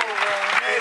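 Brief applause from the crowd for the folk band at the Saltarello Folk Festival concert, a short burst of clapping close by, with faint voices mixed in.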